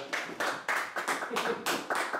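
A small group claps in quick bursts, roughly seven sharp rounds of close, loud clapping with brief gaps between them, during a casual European Championship fantasy sweep gathering.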